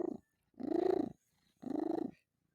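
A cat purrs in three rhythmic bursts with short gaps, close and fairly loud, each phrase a buzzing rumble with no talk over it.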